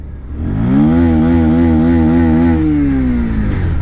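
A 2022 Bajaj Pulsar 150 Twin Disk motorcycle engine revs up close and loud, its pitch rising and holding steady before easing off, with no talking over it.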